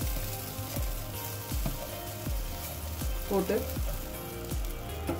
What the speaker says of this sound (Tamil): நல்லா பேன் ஹீட் ஆனதும் கொஞ்சோண்டு ஆயில் விட்டு தேவையான அளவு பொறிச்சு உதிர்த்துன